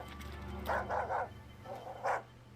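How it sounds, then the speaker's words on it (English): A cartoon dog in an animated Star Wars series barks a few times in quick bursts, then once more after a short pause, over a low background score. "Space dog"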